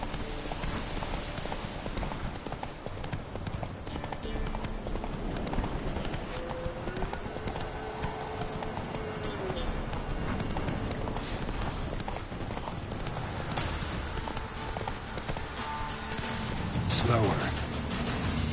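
Roach the horse gallops in The Witcher 3, with rapid, steady hoofbeats running throughout over game ambience, while a voice can be heard talking over the action.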